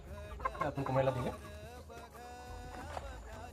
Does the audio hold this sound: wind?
no